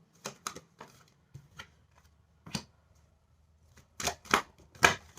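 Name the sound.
tarot angel cards being shuffled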